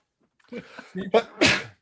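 A single sneeze bursts out near and loud after a short inhaled buildup, set among casual live-stream chatter.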